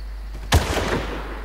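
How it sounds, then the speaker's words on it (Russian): Single sharp sniper rifle shot in the Far Cry video game, one loud crack followed by a short echoing tail over quiet game ambience. "Классный выстрел."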